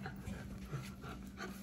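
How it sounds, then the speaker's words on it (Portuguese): A pet dog pants nearby, quick rhythmic breaths that come and go faintly over a low hum. "Essa daqui é minha cachorra Ludmilla,"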